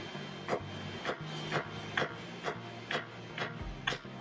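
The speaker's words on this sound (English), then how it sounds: "Time to start pounding away." Hot rebar flattened by hand hammer blows at a forge, about nine evenly spaced strikes ringing out one after another, close and fairly quiet.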